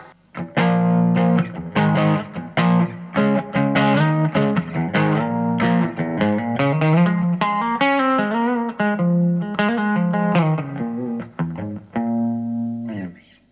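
A Gibson Firebird electric guitar played through its bridge pickup with heavy distortion, ringing out a steady run of loud, sustained chords and single notes from start to finish, alone with no talking.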